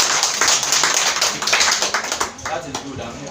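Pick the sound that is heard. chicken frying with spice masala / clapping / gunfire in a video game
clapping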